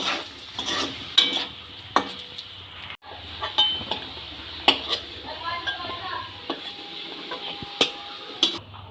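Potato slices fry in oil in a pan for a spicy potato dish. A steady soft sizzle runs throughout, with repeated sharp clinks and scrapes of a utensil stirring against the pan, close by.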